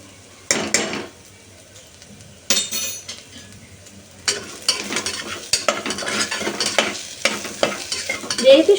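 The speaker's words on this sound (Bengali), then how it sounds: "আমার সবজিটা হালকা ভাজা ভাজা হয়েও এসেছে" Vegetables fry in a pan while a utensil stirs them, making bursts of sizzling with scraping and metallic clinks that grow busier and louder toward the end, with no one speaking.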